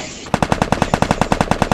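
Rapid automatic gunfire from the Free Fire mobile shooter game, a steady burst of about fifteen evenly spaced loud shots that starts abruptly after a brief hiss and continues without pause.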